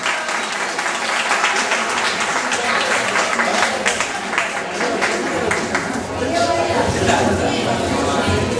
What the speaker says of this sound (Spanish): Para quien les pido un fuerte y grande aplauso